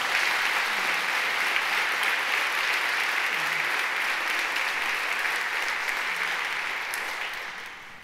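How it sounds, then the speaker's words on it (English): An audience at an academic convening claps steadily, a dense, sustained round of applause filling the room, tapering off near the end. "Let's give them a round of applause,"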